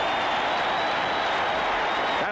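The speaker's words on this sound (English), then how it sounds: "The crowd likes what they've seen" A large football stadium crowd roars steadily at halftime of a 1985 NFL game between the San Francisco 49ers and New Orleans Saints, a dense, continuous wash of cheering and clapping that holds loud and even throughout.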